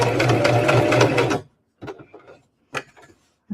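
A sewing machine stitches a small cocoa cup wrap in a steady loud burst, then stops for the corner pivot, leaving a few short mechanical clicks and handling sounds.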